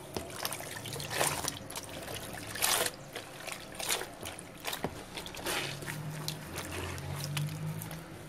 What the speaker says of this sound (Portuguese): Eu vou torcer para a gente ver como ficou.